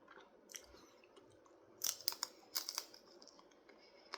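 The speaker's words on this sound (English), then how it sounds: "Good little crunch still." Someone bites and chews a Jack in the Box spicy tiny taco up close, a quiet run of sharp crunches clustered in the middle, faint against a low background.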